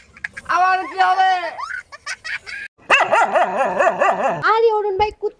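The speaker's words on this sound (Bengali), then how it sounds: "কুত্তাটারে পিটাচ্ছেন কেন? ওটা তো আপনার পোষা কুত্তা।" Pet dog yelping and whimpering in sharp, high, drawn-out cries while being beaten, with a few barks in between. The cries come in two close, loud bursts separated by a brief silence.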